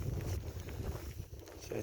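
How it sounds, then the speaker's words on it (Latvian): Wind gusts outdoors in rural countryside, a low rumbling buffet against the microphone that swells and dips unevenly over a couple of seconds. "vējš pūš."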